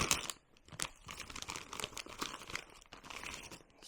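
Plastic crinkles and rips as a Japanese JSDF combat ration pouch is torn open at its tear notch, giving a close string of irregular crackling bursts with no voices.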